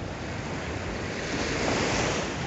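Ocean waves wash steadily onto the shore at Waikiki beach in Hawaii, a continuous close, broad rush of surf with a little wind noise and no voices.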